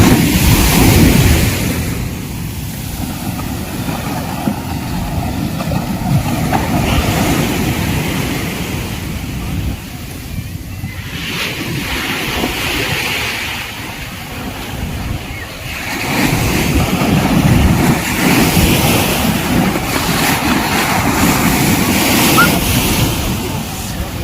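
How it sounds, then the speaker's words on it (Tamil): Ocean waves breaking at Kovalam beach near a fish market, a loud, continuous roar of surf that swells and eases over the stretch, heavily mixed with gusting wind noise buffeting the microphone. "இந்த காலையிலே சவுண்டு, இந்த அலையோட சவுண்டு எவ்வளோ சூப்பராக இருக்கு பாருங்க"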